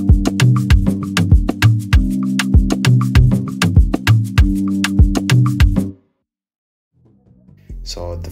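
A drum loop in a produced beat plays punchy, evenly spaced hits layered with a tonal backing for about six seconds, then cuts to silence before a voice begins talking.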